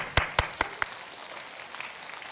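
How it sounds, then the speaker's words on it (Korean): Four crisp, evenly spaced claps ring out in a church congregation before fading into faint room murmur. "박수 한번 드릴까요?"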